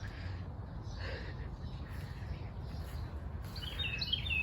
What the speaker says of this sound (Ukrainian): Ой, як птахи співають гарно.